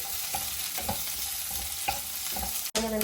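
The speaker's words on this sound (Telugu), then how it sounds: "ఇప్పుడు వెల్లుల్లి వేస్తున్నానండి, అలానే ఆనియన్స్ కూడా వేస్తున్నాను." Garlic and onions frying in oil in a pan, a constant close sizzle with light rhythmic stirring scrapes every half second or so.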